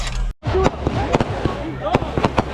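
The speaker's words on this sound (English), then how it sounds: "Fireworks. They busting back out here." Fireworks bursting outdoors at a July 4th party, a series of sharp cracks and pops scattered through the clip amid crowd noise and voices talking.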